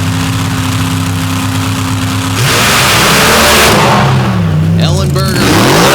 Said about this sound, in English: with a 500 cubic inch Alan Johnson performance engine with a 1471 Whipple supercharger on top of it